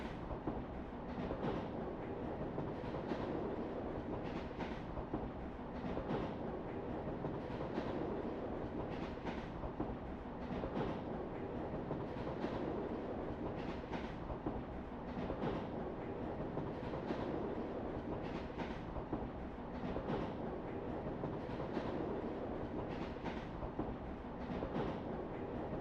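Moving train in the video game Trails of Cold Steel, a steady rumbling roll with a regular clickety-clack rhythm of wheels over rail joints, continuous and fairly quiet with no voices.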